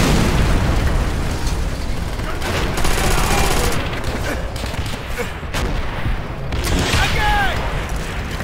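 Rocket blasts and sustained gunfire rattle through a World War II battle in Call of Duty: World at War, dense overlapping shots and booming explosions under a continuous roar, with shouted voices over the fighting.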